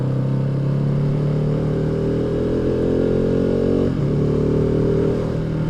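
A 2015 KTM RC390 motorcycle on a test ride, its engine holding a steady, close mid-pitched drone with a brief dip in revs partway through, alone without speech.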